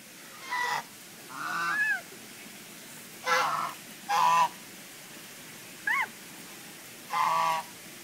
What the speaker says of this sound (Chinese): 鸭子怎么叫？